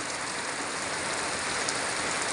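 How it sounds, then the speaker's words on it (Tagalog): Steady late-morning rain falls on farmland, a dense, even hiss of drops with no pauses or voices. "may ulan na"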